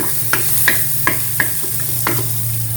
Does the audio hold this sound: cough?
no